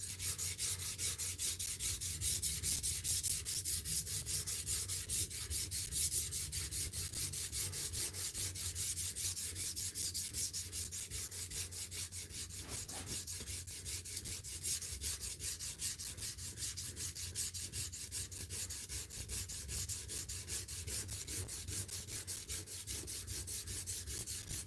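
A blade is ground diagonally across a sharpening stone in a long, steady, close scraping rub that continues without a break.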